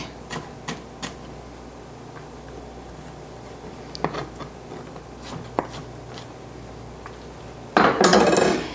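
A knife chopping vegetables into sticks on a cutting board for a whipped feta appetizer: a few sharp, isolated taps spread out with quiet gaps, ending in a louder rustling burst.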